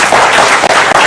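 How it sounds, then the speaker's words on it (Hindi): A loud, close burst of audience clapping at a political talk show, dense and continuous with a couple of brief dips over about one second. "तालियां आपके लिए"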